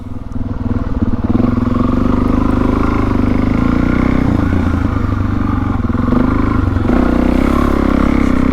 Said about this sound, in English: going on the motocross track with the Mercedes